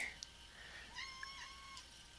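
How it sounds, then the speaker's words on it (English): A house cat meows for attention, a few faint high mewing calls, the last drawn out, heard softly in a quiet room. "I have a cat trying to get attention from me"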